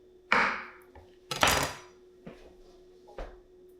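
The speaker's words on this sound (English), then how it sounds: "I'm going to put a little bit of butter in my pan" Butter goes into a pan heating on the stove for cooking duck, heard as a few separate metallic clanks and knocks of utensil against the pan, close and fairly crisp.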